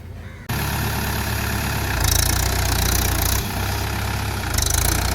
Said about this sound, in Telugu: బావ అయితే ట్రాక్టర్తోనే దున్నుతుండు